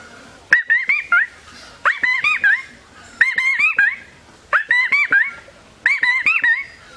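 A man whistles a bird-like call imitating the Chaitali bird, repeated in five rising, warbling phrases with short gaps, close and fairly loud with no speech.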